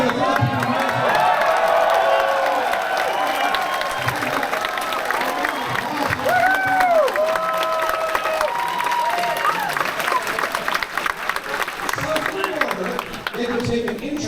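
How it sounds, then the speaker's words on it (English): A large crowd at a Pierre Poilievre political rally in Vancouver cheers and applauds loudly for a sustained stretch, with whoops and shouts rising over the clapping. "Yes, give a cheer for the Filipino nurses."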